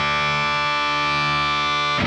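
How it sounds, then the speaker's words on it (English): One-string electric guitar through two stacked octaver pedals gives a loud, sustained, thick distorted note with deep doubled lower octaves, held steady for about two seconds before a brief scrape at the end. "I've added not just 1, but 2 octavers"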